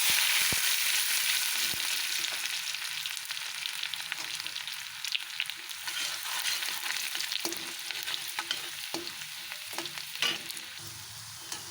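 Garlic sizzling in hot oil in a pan while cooking palak paneer masala, a steady crackling fry with occasional sharp scraping knocks of stirring, close and continuous, no talk.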